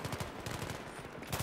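Rapid gunfire from a weapon in the Battlefield 3 single-player campaign, aimed at a destructible wall: dense, continuous bursts of shots with a steady rhythmic pounding, loud and close, with no talk.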